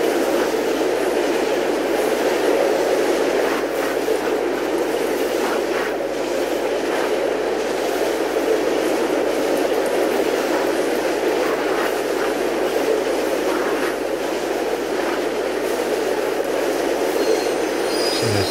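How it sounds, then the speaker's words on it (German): Subway train in an underground metro level of the video game Mirror's Edge, a loud sustained rumble of wheels on rails with faint clacks and squeals running steadily the whole time, no speech. "jetzt dürfte bald wieder der andere Zug kommen"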